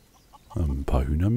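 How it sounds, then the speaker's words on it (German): Chickens in the video game Craft the World give a few short clucks, then a louder, throaty cackle, close up and clear. "Ein paar Hühner mehr."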